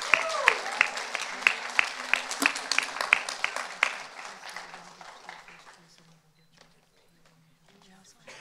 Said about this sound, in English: Can we give our contestants one more round of applause?